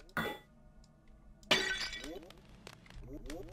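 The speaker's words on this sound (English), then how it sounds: "That sound effect of the jugs, like, crashing, is like, so stock." Clay jugs shatter in the video game Lunacid, two sharp crashes about a second apart over quiet, spooky game ambience with faint footstep-like sounds.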